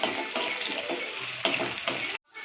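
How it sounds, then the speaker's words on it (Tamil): Fennel seeds and small shallots sautéing in a pan, a close, continuous frying hiss broken by a few scraping stirs, ending abruptly in near silence. "சின்ன வெங்காயத்தை நல்லா வதக்கி விட்டுடலாம்."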